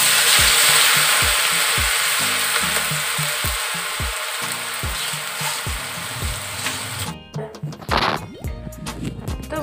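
Potato pieces fry in hot oil with a dense, close sizzle, punctuated by rhythmic knocks of a spatula stirring against the pan, then the frying quiets and clattering takes over.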